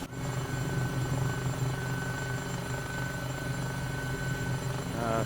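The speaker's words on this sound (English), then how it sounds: "It is rather noisy, but then again, you are on a helicopter." Inside a helicopter cabin in Microsoft Flight Simulator, engine and rotor noise drones loud and constant, a dense steady roar with faint tonal whines throughout.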